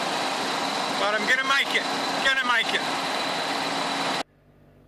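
Car engine roaring steadily while driving on an outback road trip to Ayers Rock, with an overheating radiator; loud continuous engine and wind noise under a man's speech, cutting off abruptly near the end.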